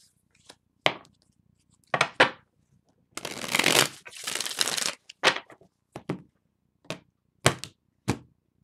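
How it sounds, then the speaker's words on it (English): Tarot cards being shuffled by hand, in a series of sharp riffling bursts with a longer continuous shuffle in the middle, close and fairly quiet with no talking. "Let's shuffle again."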